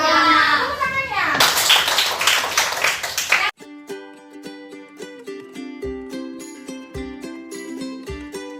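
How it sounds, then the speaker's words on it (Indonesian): Children in a classroom clap together after a teacher's prompt, dense clapping mixed with excited kid voices, then the scene shifts abruptly to music. "Tepuk tangannya."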